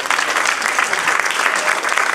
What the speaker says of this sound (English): Let's clap our hands to the Lord Jesus